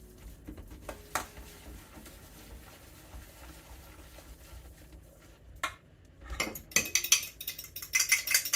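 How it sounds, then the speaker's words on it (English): Dry cornbread ingredients, including salt, baking powder and baking soda, stirred together in a bowl, with quiet handling at first and then clinking, scraping strokes of a utensil against the bowl toward the end. "Stir to combine."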